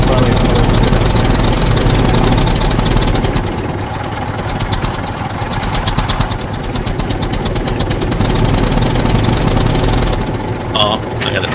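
A tractor engine in the SCUM video game runs steadily and loud throughout, a continuous low mechanical drone with some rattling, while people talk over it.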